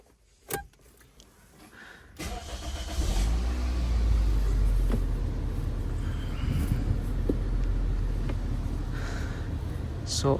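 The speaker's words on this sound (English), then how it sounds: "Now we can get the car started again" A Toyota car engine cranks and catches, then settles into a steady, loud idle rumble close by after a brief click at the start.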